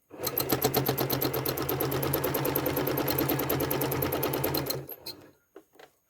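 A domestic sewing machine stitching serpentine quilting lines runs fast and steady with a rapid even needle clatter for several seconds, then stops abruptly, followed by a few faint handling knocks.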